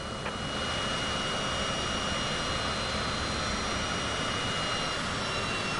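An airliner in Microsoft Flight Simulator 2024 taking off from runway 25: a loud, steady jet engine roar holding at full power throughout, broad and unbroken, with no voices.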